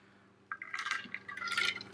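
Water pouring or being sipped close by, a short liquid trickle beginning abruptly and running in uneven bursts, with no talk.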